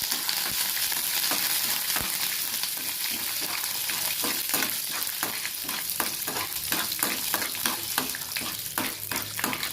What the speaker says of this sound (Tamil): கடுகு போட்டு அது பொரிஞ்சுட்டு இருக்கு.